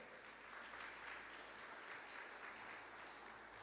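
Sustained applause from a church congregation, a dense steady clatter of many hands clapping at moderate distance, with no voices standing out.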